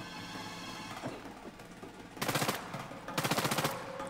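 Automatic gunfire in the video game Uncharted 4 comes in two rapid bursts over an ongoing game soundtrack, loud and close, with the second burst following about a second after the first.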